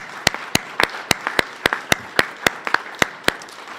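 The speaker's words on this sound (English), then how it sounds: "let's have a special round of applause for everyone who's involved" At a board of education meeting, a small group claps sparsely in a hall, with separate sharp hand claps at a loose, uneven rhythm and quiet room tone between them.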